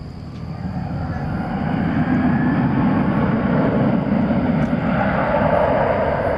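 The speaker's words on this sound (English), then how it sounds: "American 2707 and an Airbus A321 to Austin has just started its roll" American Airlines Airbus A321 bound for Austin beginning its takeoff roll at night at DFW Airport, a distant engine roar swelling steadily to a sustained broad rumble.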